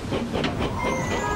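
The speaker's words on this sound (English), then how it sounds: "Murdoch passed by pulling a long train." A locomotive hauling a long freight train in a Trainz railway animation, giving a steady rumbling roll with faint clickety-clack and hiss, continuous and fairly close.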